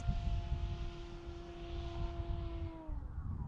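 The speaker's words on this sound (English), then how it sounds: "there's high speed, full throttle. She sounds meaner than she is." Radio-controlled plane motor held at full throttle, a steady high-pitched electric whine with a strong tone that holds loud and constant, then drops slightly near the end, with wind noise rumbling underneath.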